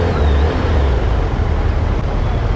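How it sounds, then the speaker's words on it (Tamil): Heavy, slow-moving road traffic surrounds a Suzuki Hayabusa motorcycle, a steady loud low rumble of engines and road noise continuing throughout without speech. "ஸோ இவ்வளோ டிராஃபிக் ஸ்லோவாக போயிட்டுருக்கு"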